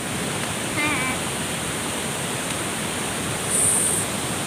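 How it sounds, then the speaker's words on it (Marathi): Strong rushing water at a waterfall near Khopoli, a dense, steady roar close by that fills the whole clip, with faint voices briefly over it. "खूप जास्त पाण्याचा फ्लो आहे"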